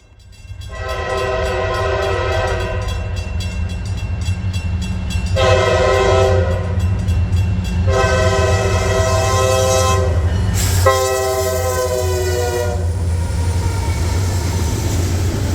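A Norfolk Southern freight train, helped by a former BNSF locomotive, rumbles past loud and close with a steady low drone, its horn blaring in repeated long blasts over the continuous rolling noise.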